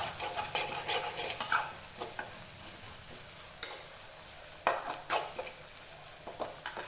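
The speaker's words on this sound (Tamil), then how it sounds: "உப்பு சேர்த்துட்டு இதை நல்லா மிக்ஸ் பண்ணி விட்டுருங்க ஒரு டைம்." Sautéed tomatoes with salt are stirred in a pan over low flame: a soft sizzle underneath, broken by a few scraping and clinking spoon strokes against the pan at irregular moments.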